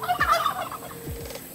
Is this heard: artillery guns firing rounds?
no